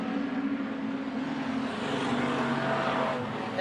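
Street stock race cars roar around Hobart Speedway, a steady loud engine drone building slightly as cars close in, with no voices over it.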